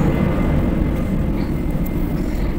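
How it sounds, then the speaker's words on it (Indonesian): An airplane near Babullah Ternate airport in Ternate rumbles overhead as a steady, loud, low roar that holds through the whole moment with no voices. "Saya tinggal di dekat Bandara Babula Ternate ya, jadi selalu ada suara-suara pesawat seperti itu ya."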